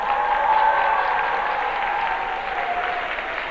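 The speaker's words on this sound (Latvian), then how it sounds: "Sagaidām ar aplausiem!" Concert audience applauding at a televised Jūrmala song contest stage, a dense, steady wash of many hands clapping at once, loud and continuous throughout.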